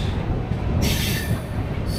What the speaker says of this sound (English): So the other train was the empty rake of the Kolkata Udaipur Ananya Express on platform number 3 of Umrah station.